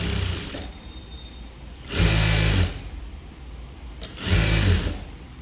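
A sewing machine runs thread piping along a blouse using a narrow piping foot, in two loud bursts of rapid mechanical whirring and stitching separated by a quieter pause with low motor hum.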